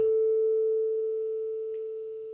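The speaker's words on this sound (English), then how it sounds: "here is a tuning fork, and this particular one is tuned to a frequency of 440 hertz" A 440 Hz tuning fork, struck with a rubber mallet, rings as a single pure steady tone that decays slowly and evenly, loud and alone with no other sound.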